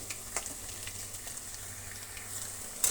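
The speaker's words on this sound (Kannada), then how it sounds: "ನೀಟಾಗಿ ಡೀಪ್ ಫ್ರೈ ಮಾಡ್ಕೊಂಬಿಟ್ರೆ ಚೆನ್ನಾಗಿರುತ್ತೆ" Cauliflower pieces for gobi rice deep fry in hot oil with a soft, steady sizzle and scattered crackling pops, quiet and close, with a sharper spatter near the end.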